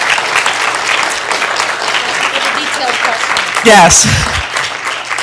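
Dense, steady audience applause fills an indoor gathering, with a brief louder burst and a single spoken word near the end.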